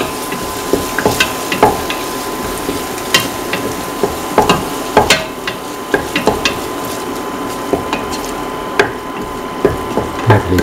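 Tomato pieces are sautéed in a pan for a cheese and scrambled egg dish, with a constant sizzle under frequent sharp clacks and scrapes from a stirring utensil, close and fairly loud, no voices.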